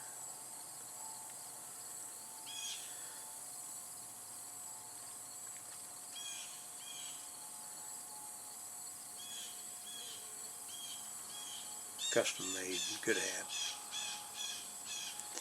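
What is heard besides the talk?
blue jays squawking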